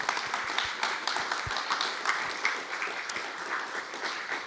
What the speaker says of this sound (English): So if we can just show our appreciation with a round of applause.